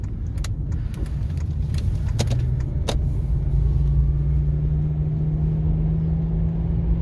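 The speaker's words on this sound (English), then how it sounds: "she's just a smooth, quiet beast. Listen to her." Steady low engine hum and road rumble inside a 2006 Lexus LS 430 Ultra Luxury while driving, smooth and quiet throughout, with a few faint clicks and creaks in the cabin and no talking.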